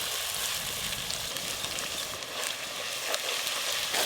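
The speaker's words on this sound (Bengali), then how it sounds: "প্রথমে গরম তেলে দিয়ে দেবো পেঁয়াজ কুচি, রসুন বাটা।" Chopped onion and garlic paste frying in hot oil, a steady broadband sizzle that holds evenly throughout, close and moderately loud, with no talking.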